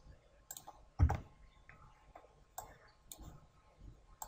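Sharp computer mouse clicks in SolidWorks, a few isolated taps spaced unevenly across a quiet stretch, one louder click near the start.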